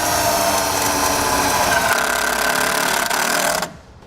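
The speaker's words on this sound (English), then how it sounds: "We're going to take our self-tapping screw, right in our mounting location." A power driver with a 5/16 socket runs loud and steady for several seconds, sinking a self-tapping screw into a vehicle mounting location, then cuts off abruptly.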